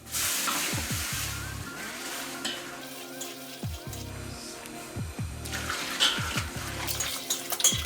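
Boiling water poured into a pot of white bean stew with hot pepper paste, tomato paste and spices, a sizzling, bubbling splash followed by stirring and clinking close by.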